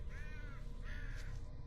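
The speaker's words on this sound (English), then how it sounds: "God, I'm getting killed by birds, crows." Crows caw twice in a video game, two drawn-out harsh calls standing out clearly over a steady, loud background rumble with no talking.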